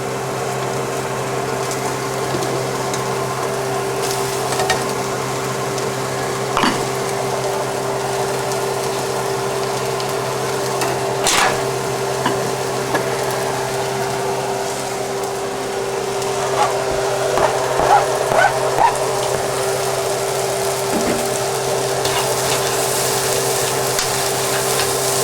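Chicken fried rice with onions sizzles steadily in a pan under a constant hum, with occasional sharp scrapes and clicks as it is stirred. No one speaks.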